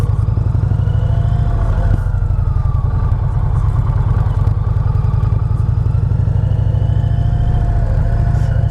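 A 2020 Indian Challenger motorcycle rides along with a steady, loud engine drone and a continuous low rumble, plus wind noise, that holds throughout with no speech.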